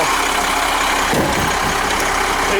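A 1993 Thomas school bus with an 8.3 liter Cummins diesel engine idling, a loud steady rumble filling the whole clip, with a brief lower throb partway through.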